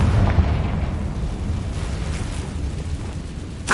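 The Confringo fire spell goes off in a Harry Potter video game as a loud, sustained roaring blast that rumbles steadily for several seconds and ends in a brief crackling burst.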